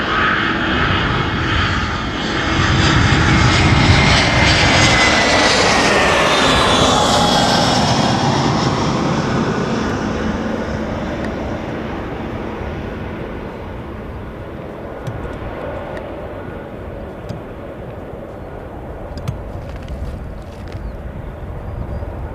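An Emirates jet airliner roars past close overhead, a loud, broad engine rumble that swells, peaks with a sweeping whine and then slowly fades into a lingering distant drone.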